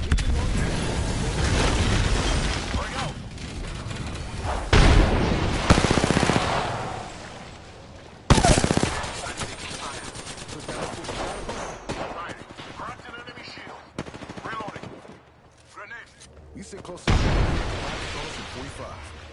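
Gunfire in the battle royale game Apex Legends, with bursts of rapid automatic shots and heavy booming impacts coming in waves. Loud dense stretches give way to quieter gaps before the shooting flares up again.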